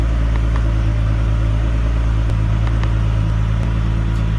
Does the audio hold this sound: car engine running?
yes